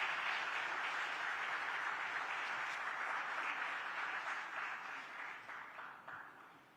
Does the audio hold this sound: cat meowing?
no